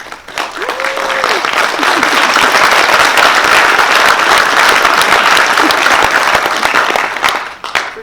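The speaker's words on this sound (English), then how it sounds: "he's obviously scored quite well there because the applause started before he even actually stepped forward" Sustained applause from a large crowd at a Royal Marines troop passing out ceremony, loud and steady for about seven seconds, with a brief voice near the start before fading out.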